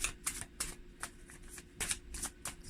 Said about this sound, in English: to shuffle the cards a little bit